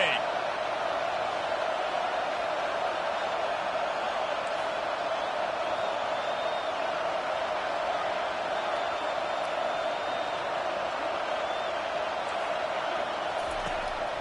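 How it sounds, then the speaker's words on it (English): A football stadium crowd roars steadily, a dense wall of cheering that stays loud and even throughout with no break. "This crowd, full throat, splitting the eardrums"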